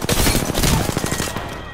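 Rapid automatic gunfire in Apex Legends, a loud close burst of quick rattling shots for about a second and a half, fading out at the end, with no talking.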